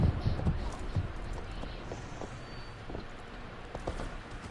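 Horse hooves in Assassin's Creed Valhalla clip-clop in a steady trotting rhythm over a low rumbling background, moderately close and fairly quiet.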